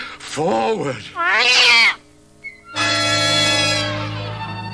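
A cat meows loudly and close by, two drawn-out meows followed by a longer, sustained wavering cry.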